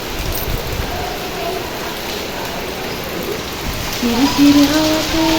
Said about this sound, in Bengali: বৃষ্টি হতেছে প্রচুর